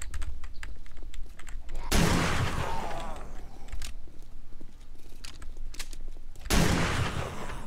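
A hand cannon firing in the game 7 Days to Die: two loud, booming shots several seconds apart, each with a long rumbling tail, over steady clicking and background game noise.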